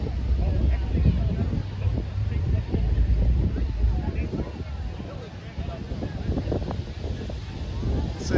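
Wind buffets the microphone outdoors at a trunk-or-treat car show, a loud, continuous low roar with gusty swells, and a voice talks over it.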